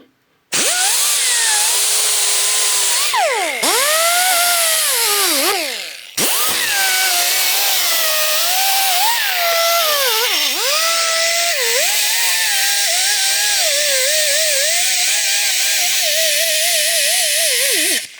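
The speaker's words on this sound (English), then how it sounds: "I'm also cleaning back some of the rust that's on here" A power tool cleans rust off a custom brake pedal assembly for a 1966 GMC, a loud, continuous whine that bends up and down in pitch as pressure changes, with one brief cut-out early on and no talk.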